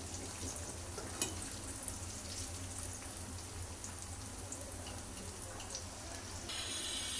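Food frying in hot oil in a pan while being stirred, a soft continuous bubbling sizzle with occasional scraping clicks, fairly quiet and steady, no talking.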